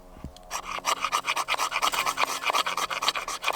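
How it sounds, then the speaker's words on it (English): Fire steel scraped to shave fine particles for lighting a cheap wood stove in a woodland, heard as a quick run of close, loud rasping strokes in a steady rhythm. "Try and get some fine shavings off the fire steel into it."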